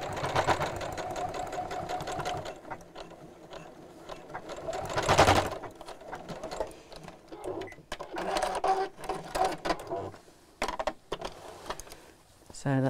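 A domestic sewing machine backstitches the seam of a round bamboo-handle fabric bag, whirring in short bursts that start, stop and reverse, close up, with someone speaking over parts of it.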